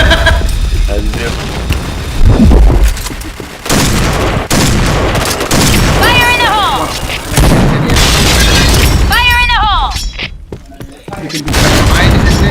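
Bombs explode in a shooting video game: loud booming blasts and bursts of gunfire roll one after another. Excited voices talk and shout over the noise, and a few sharp electronic chirps cut through.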